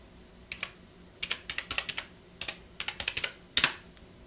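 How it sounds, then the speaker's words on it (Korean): Close, crisp typing on a computer keyboard in short bursts of rapid clicks separated by brief pauses, with a heavier keystroke near the end, alone in a quiet room. "타이핑을 해야 되니까 조금만 기다려 주십시오."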